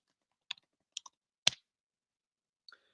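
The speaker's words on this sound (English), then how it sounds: "Don't worry, I'm typing now." A few isolated clicks from a computer keyboard, in sparse, irregular pairs over quiet silence, like scattered keystrokes. One tap is a little louder than the rest.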